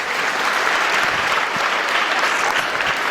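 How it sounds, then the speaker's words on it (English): Audience applause for a Black Student Union performance at a school event, dense and sustained clapping from a large crowd throughout, even in level with no break. "Let's give the Black Student Union another round of applause."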